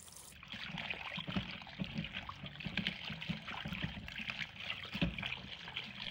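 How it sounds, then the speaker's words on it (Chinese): Running tap water trickles and splashes into a basin as mustard greens are rinsed leaf by leaf, a soft continuous flow with small clatters and handling sounds, no talking. "把它放入盆中，用流动水一片一片的清洗。"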